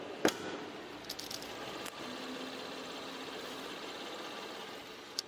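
A Hyundai Grandeur HG 300 Prime engine idles with a low, steady hum, with a few faint clicks and a sharp tap near the start and end.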